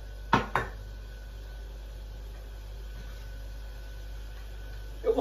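A cooking pot is handled on a stovetop while caramel cooks for an Easter pudding egg: two sharp metallic clanks close together, then a faint steady hiss, ending with another soft clatter.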